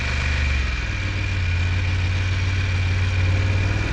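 A motorcycle engine idles steadily during a slow-speed riding exercise, a low continuous hum with a faint whine above it, close and even throughout with no talk.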